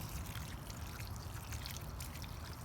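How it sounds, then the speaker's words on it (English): Water poured onto a newly planted garden plant, a faint continuous splashing trickle into soil that holds steady throughout, with no voices. "water more than normal for the first time"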